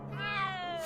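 A cat in the Back to the Future adventure game gives a single drawn-out meow that rises and then falls, close and clear, with no talking over it.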